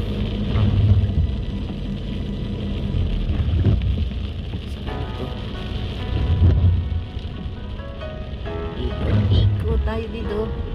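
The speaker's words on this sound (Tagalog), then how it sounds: "umuulan" Rain falling by the sea, a steady hiss and patter on surfaces with low rumbling swells underneath, continuous throughout with no distinct pauses.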